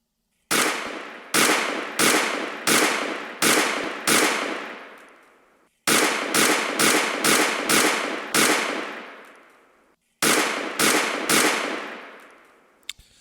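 Target shooting on the Smokeless Range 2.0 simulator at three yards: loud sharp shots come in three quick bursts of about seven, seven and four, each bang ringing out with a reverberant tail, and the room falls silent between bursts.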